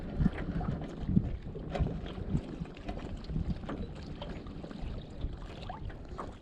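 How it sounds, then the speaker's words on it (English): Wind gusting across an open fishing dock while crappie fishing, a steady loud rumble of wind noise buffeting the microphone throughout, with faint splashing water beneath. "It's really windy out."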